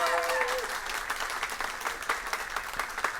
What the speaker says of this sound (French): Encore une fois, je vous demande de les applaudir.